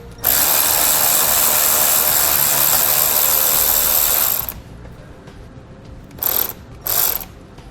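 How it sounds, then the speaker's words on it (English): A ratchet with an 8mm socket loosens the nut on a battery positive post: a long, loud, steady clicking run up close, then two short ratcheting bursts after a pause, with no talking. "We'll use an 8mm socket to remove the nut."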